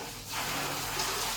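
Water is poured out in a steady, close rushing stream that starts after a brief quieter moment and then carries on evenly until the end; no talking.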